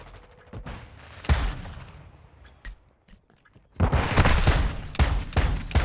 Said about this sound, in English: And the shotgun pistols get him the first kill.